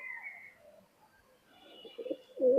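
Young Pakistani Teddy pigeons at a breeding loft give soft, intermittent coos, close and fairly quiet, with a louder burst of cooing near the end.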